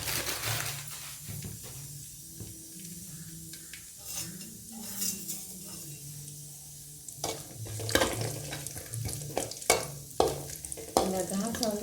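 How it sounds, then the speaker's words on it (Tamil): Cashews and raisins fry in ghee for a sweet dish, giving a steady soft sizzle with frequent metal spoon clinks and scrapes against the pan as they are stirred, busier toward the end. "முந்திரி திராட்சையை போட்டு நல்லா வறுத்து எடுத்துக்கோங்க."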